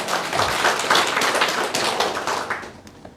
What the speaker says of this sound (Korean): 믿으면 박수야. 박수.